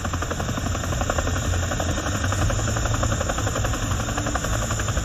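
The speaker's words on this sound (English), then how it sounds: "The Chinook crew proceeds to conduct multiple tests of the skis to make sure that the system" A Chinook helicopter fitted with skis runs steadily on snow, its rotors producing a continuous loud, throbbing drone with rapid blade chop and no break across the clip.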